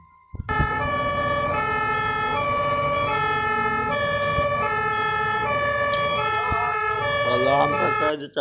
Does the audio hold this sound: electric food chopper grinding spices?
no